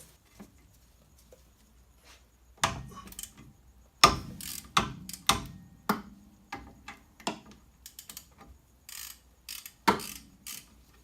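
A socket wrench on a length extension ratchets against a brake line fitting on a Toyota MR2 SW20, in short clicking bursts separated by pauses, close and fairly quiet.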